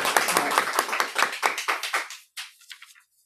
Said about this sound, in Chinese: 那我们就以拍手的方式